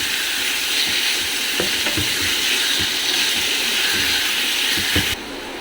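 Chicken pieces frying in ginger garlic paste give a loud, steady sizzle with occasional stirring scrapes, close up and continuous before dropping off abruptly near the end.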